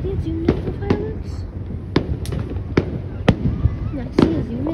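Sharp pops and cracks from Fourth of July fireworks arrive irregularly, roughly seven bangs in under five seconds, mixed with a voice speaking.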